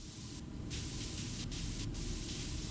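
A pressure washer sprays steadily in PowerWash Simulator, a dense constant hiss broken by a few brief pauses, loud and alone with no talk.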